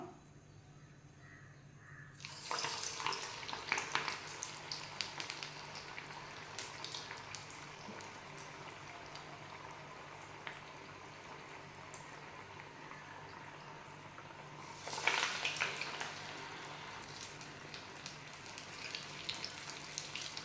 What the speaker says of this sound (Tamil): நல்லா ஃப்ரை ஆகிட்டுருக்கு.